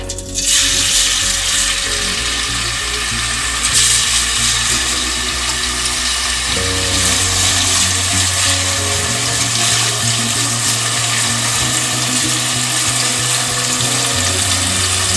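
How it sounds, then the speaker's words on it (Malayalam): Loud, steady sizzling and crackling of mushrooms frying in hot oil, continuous hiss filling the whole stretch with no talking. "എണ്ണ ചൂടായതിൻ്റെ ശേഷം നമുക്ക് കൂണ് വറുത്ത് പോരാം"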